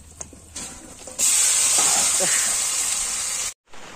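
Chicken pieces dropped into a hot kadai of oil for chicken kosha burst into a loud, steady sizzling hiss after a quieter moment, with faint stirring sounds underneath, then cut off abruptly near the end.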